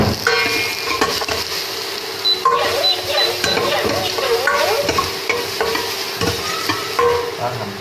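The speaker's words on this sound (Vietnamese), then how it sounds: "Mình đảo đều tay." Minced garlic is stirred in a pot, with a steady sizzle under scraping and clinking utensil strokes throughout.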